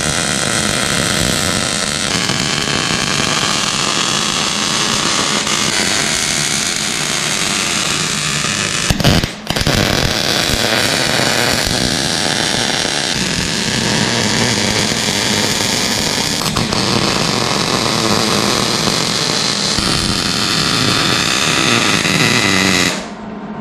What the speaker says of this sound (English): I'm going to weld the things that I couldn't reach before